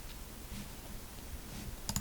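One faint, sharp mouse click on a search button lands near the end of an otherwise quiet stretch of low room hiss.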